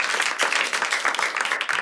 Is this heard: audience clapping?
yes